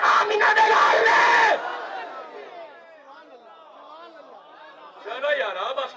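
A crowd at a religious gathering shouts a slogan in unison in a loud burst that quickly dies away into murmuring, then rises again briefly near the end.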